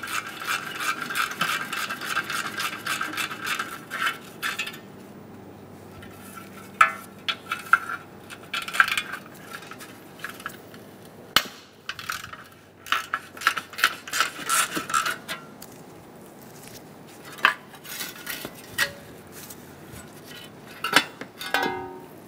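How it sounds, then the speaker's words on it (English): A ratchet with a 10 mm socket works loose the heat shield bolts on a 2003-2007 Honda Accord exhaust manifold catalytic converter: close, uneven bursts of clicking and rasping with brief pauses between pulls. "removing the four bolts for the heat shield. Using a 10 millimeter socket."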